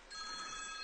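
A telephone ringing during an amateur television net broadcast, its electronic ring a steady bright tone held close and loud for under a second with no talk over it.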